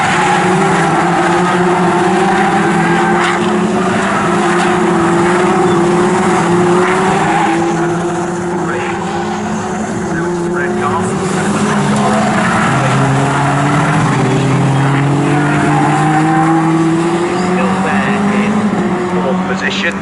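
Race cars at Snetterton in a Toyo Tires 7 series race roar past continuously, engines rising and falling over twenty seconds at steady loudness, with a commentator talking over the sustained motor noise.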